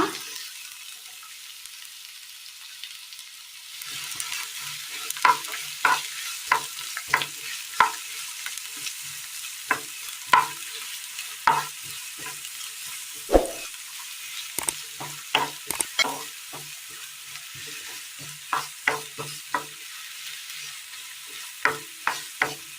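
Chopped onion, ginger, garlic and green chilli sautéing in oil: after a quiet opening, a steady hiss of frying sets in, punctuated by many sharp spoon scrapes and clinks against the pan.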